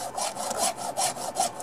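A file is drawn back and forth across a chainsaw chain tooth during sharpening, giving a quick rhythm of close rasping strokes, about four or five in under two seconds, with no voices.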